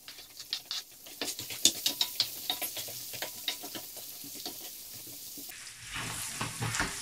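Wild asparagus and chili pepper frying in a pan for a tricolour spaghetti with red prawn, a close, steady sizzle broken by a run of sharp crackles and spatters, then a louder, smoother hiss near the end.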